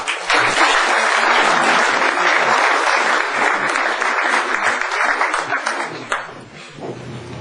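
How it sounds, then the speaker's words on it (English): A room full of people breaks into strong applause as a speaker is invited to the stage, a thick burst of clapping that fades near the end as a voice starts up. "Please give me a big applause."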